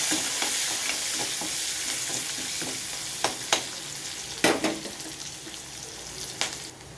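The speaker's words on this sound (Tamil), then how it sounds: "வெங்காயம், கருவேப்பிலை சேர்த்து நல்லா வதக்கிடணும்" Onion and curry leaves sautéing in a hot pan: an even, close sizzle continues the whole time while a spatula stirs, with scattered scrapes and a few louder clacks toward the end and no talking.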